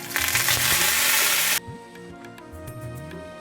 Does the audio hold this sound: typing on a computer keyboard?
no